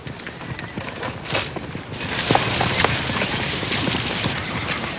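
A string of horses moves along, hooves clip-clopping in a dense, uneven patter that grows louder partway through, with faint voices in the background.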